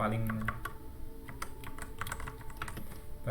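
Quick, light keystrokes on a computer keyboard in a short burst of close clicking, with a voice talking over it.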